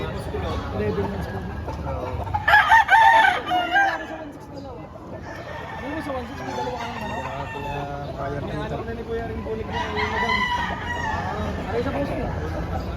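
A rooster crows loudly for a moment amid a busy livestock auction market in Padre Garcia of people talking, with chickens clucking faintly in the background.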